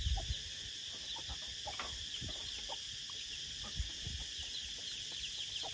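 Farmyard chickens cluck in short scattered bursts, fairly close, over a constant high drone of insects or crickets outdoors.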